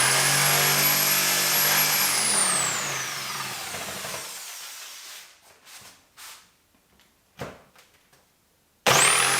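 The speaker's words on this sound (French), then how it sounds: "la scie sauteuse" A jigsaw cutting notches in wooden shelves whines loudly and steadily for a few seconds, then winds down, followed by scattered clicks and knocks before the motor starts again.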